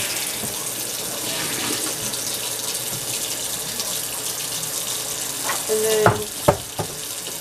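Water is poured out of a trash can during deep cleaning, a continuous rushing splash that ends in a few loud knocks and thuds; a voice speaks briefly.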